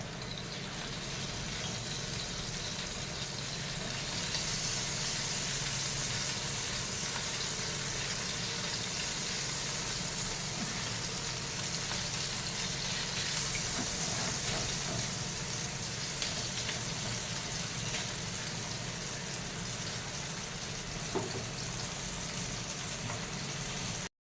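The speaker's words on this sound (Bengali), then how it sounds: "এটা একটু ভাজা হয়ে যাক" Ginger and cumin seeds fry in hot oil over a raised gas flame for a fish head curry, a steady moderate sizzle with a low hum beneath and a few faint clinks.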